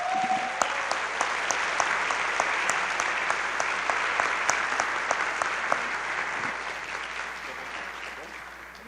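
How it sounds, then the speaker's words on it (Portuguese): An audience in a church applauds steadily for the whole stretch, a dense, even clapping wash with a few sharper individual claps standing out. "Você pode aplaudir?"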